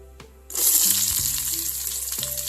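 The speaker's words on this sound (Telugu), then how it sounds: "ఆనియన్స్ కొద్దిగా ఫ్రై అయ్యేంత వరకు ఫ్రై చేసుకుందాం" Onions drop into hot oil already holding cinnamon, cloves and bay leaf, bursting into a loud, bright sizzle that keeps crackling steadily to the end, with faint clinks of a utensil underneath.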